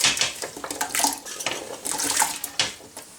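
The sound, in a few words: chopped apple and water going into a jam pan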